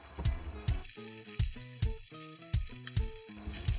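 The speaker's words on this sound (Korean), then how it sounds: "베이컨을 넣고 기름이 나올 때까지 볶아요." Bacon strips frying in cooking oil with green onion over medium heat, giving a steady crackling sizzle with brief stirring knocks, overlaid by melodic background music.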